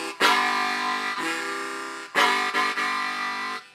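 A Hohner 365 low C harmonica, tuned an octave below a standard C harp, plays full, rich chords in two phrases with short breathy re-attacks, close and solo.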